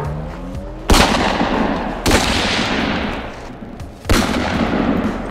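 Three loud gunshot sound effects in a comedic chor-police chase, each a sharp blast spaced about a second or two apart and trailing into a long rumbling decay.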